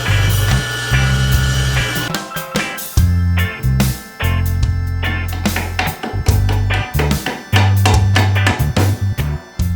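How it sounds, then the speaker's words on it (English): Walnut being ripped into thin strips for picture frame splines, a loud, steady saw whine with repeated surges and dips as each cut feeds through, no talking. "All I need to do now is rip off a few strips."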